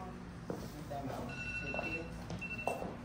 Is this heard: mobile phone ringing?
yes